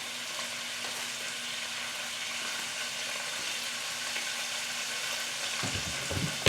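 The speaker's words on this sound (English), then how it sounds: "Mix it up a little bit. Let that simmer." Rice simmering in a single pot, a steady, dense bubbling and sizzling hiss that stays even throughout, close by, with a few soft knocks near the end and no talking.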